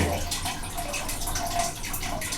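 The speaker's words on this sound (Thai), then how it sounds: "น้ำไหลต้องมีคนคอยดูนะ มันไม่มีระบบปิดออโต้นะครับ" Water runs steadily through a hand-shaken siphon hose from a large tank into a smaller container, a continuous close splashing trickle with no break.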